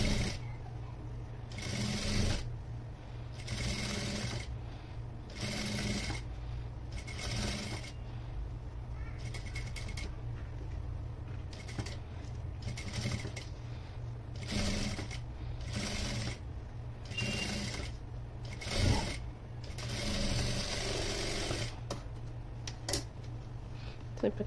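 A sewing machine stitching canvas into an anarkali frock, running in repeated short bursts with brief stops, moderately close and fairly quiet over a low steady hum.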